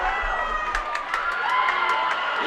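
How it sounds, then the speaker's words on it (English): A stadium crowd at a high school football game, Washington versus Enumclaw, roars and cheers in a continuous distant wash of voices and whoops, with no talk over it. "And the crowd is roaring."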